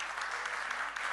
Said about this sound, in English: We all deserve to clap for each other.